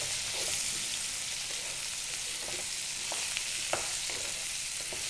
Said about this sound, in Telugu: ఆయిల్ అంతా దొండకాయ ముక్కలకి బాగా పట్టేలాగా కలుపుకోవాలి